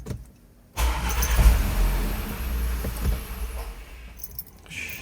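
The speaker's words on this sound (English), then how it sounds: "the engine cranked, but it didn't start" An Audi Q5 engine cranks over without catching, a close, steady, low churning drone lasting several seconds after a brief quiet start, then fading.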